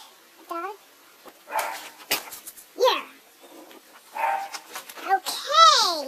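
A child makes a string of yipping, barking and whimpering dog noises, imitating a dog in short bursts with pauses between them.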